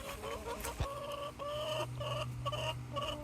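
Backyard hens cluck and murmur in a steady, overlapping chatter close by, with a few sharper calls and a low background hum beneath them, no talking.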